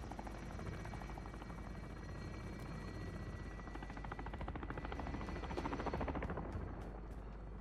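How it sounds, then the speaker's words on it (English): Helicopter in a first-person shooter game, its rotor thudding steadily and loudly throughout, with faint gunfire snaps scattered over the drone. "This guy got a helicopter."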